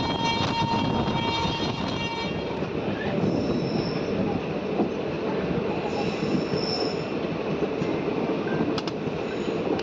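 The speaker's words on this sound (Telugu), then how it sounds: "ట్రైన్ కంప్లీట్గా అయితే తిరుగుతుంది ఇక్కడ" The Tungabhadra Express rounds a long curve, its wheels squealing steadily against the rails over a continuous rolling rumble, heard from on board without pause throughout.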